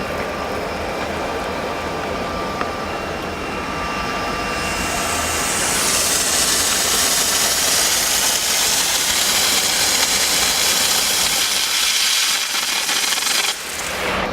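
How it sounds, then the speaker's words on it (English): Steam blasts from the steam gun of a diesel mobile washing machine, a steady loud broadband hiss that swells and brightens midway and runs continuously over the machine's low rumble until cutting back near the end. "When the steam comes out, you can not hold tight the steam gun."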